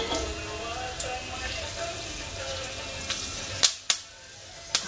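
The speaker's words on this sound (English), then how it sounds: "I'm going to add cinnamon, cardamom, and cloves inside there." Cinnamon, cardamom and cloves sizzle in hot oil, a steady crackling hiss with a few sharp pops and clinks near the end as the spices are stirred.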